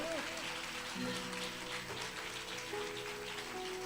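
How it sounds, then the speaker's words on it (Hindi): Congregation clapping at a church sermon, a dense patter of many hands under a preacher's voice and faint musical tones, steady throughout. "अपने हाथों को बाहर उठाकर जोर से प्रभु के लिए ताली बजाओ।"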